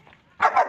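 A dog lets out two quick barks close by, the pair following a faint murmur and ringing loud and sharp in succession.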